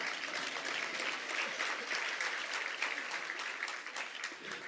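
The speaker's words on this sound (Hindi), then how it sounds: "धीरे धीरे ताली बजाओ" An audience claps at a spiritual discourse on study and understanding, a dense, even patter of many hands sustained throughout, moderately distant and with no speech over it.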